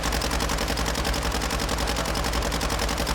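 Sustained automatic gunfire from a weapon in Warzone 2, a loud, rapid, unbroken stream of shots with a steady rhythm across the whole stretch, heard alone with no talk.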